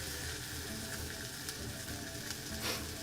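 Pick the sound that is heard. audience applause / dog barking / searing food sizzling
searing food sizzling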